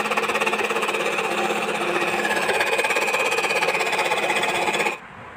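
Electric hand beater whirring steadily as sugar is added bit by bit to chocolate cake batter, a loud continuous buzzing motor drone close by that stops abruptly near the end.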